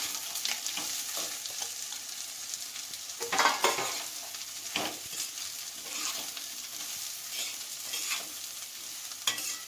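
Soaked, drained poha goes into a pan and is stirred, with soft scraping and tossing strokes over a faint sizzle, a louder scrape around the middle, close and fairly quiet.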